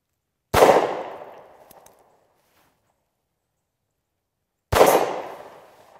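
Two sharp 9mm gunshots from a Bond Arms Roughneck derringer fired at an outdoor range toward a target 25 yards off, each a loud crack trailing into a short echo, spaced about four seconds apart with quiet between.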